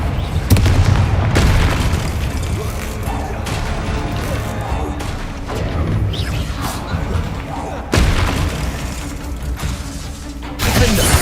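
Confringo fire spells bursting in Hogwarts Legacy amid a spider fight, a dense run of booming blasts and mechanical crunches layered with game music, loud and close, with a voice calling out over the action.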